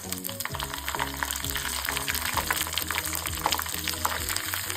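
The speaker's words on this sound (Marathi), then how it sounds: "तेल गरम करून मी घेतली आहे मोहरी घातली सगळ्यात आधी त्यानंतर मी घातली आहे जिरे हिरवी मिरची" Mustard seeds, cumin and green chilies sizzle in hot oil as a tempering for rava dhokla, a steady close crackle and spatter that continues without pause.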